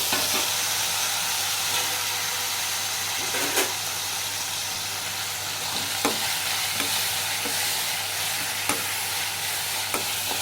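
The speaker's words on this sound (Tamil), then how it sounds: "கொஞ்ச நேரம் இதை வதங்க விடணும்." Onions and tomatoes sauté in a pan for homemade sambar rice, giving a steady close sizzle and frying hiss with occasional sharp scrapes and clicks of stirring, no voices.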